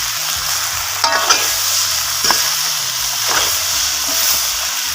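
Tomato goes into a pan of potatoes that are sizzling loudly, with a constant close hiss broken by a few spatula stirs and scrapes.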